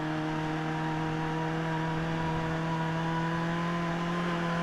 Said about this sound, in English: Excuse to rev the nuts out of it incoming.